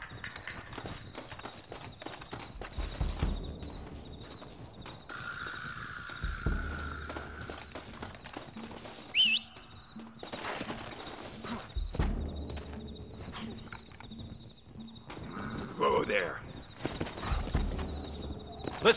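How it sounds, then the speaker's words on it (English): Horse hooves clip-clop in an irregular walking rhythm in a video game, with rustling, scattered game sound effects and a brief snort, moderately close. "Looks like Carlos left us some horses."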